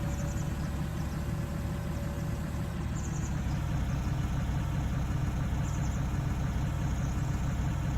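A tractor engine in Farming Simulator 19 idles at a steady low rumble, close and constant, with a few faint high chirps over the top and no one talking.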